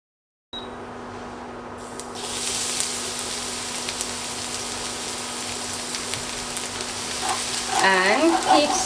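Garlic sizzles and fries in hot coconut oil as it is stirred, a steady crackling hiss that starts abruptly and grows denser, with a few scraping stirs near the end.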